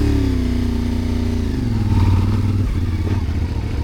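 A KTM motorcycle rides a bumpy trail, its engine droning loud and close with a steady low growl that rises slightly in revs, plus rattling clatter, and no talking.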